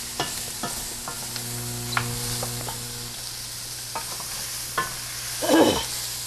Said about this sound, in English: we're going to stir that all together for about a minute